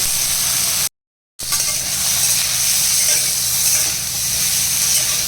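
Dried red chillies and panch phoron tempering in hot oil, giving a steady close hissing sizzle, briefly cut off by a moment of total silence before the sizzle resumes.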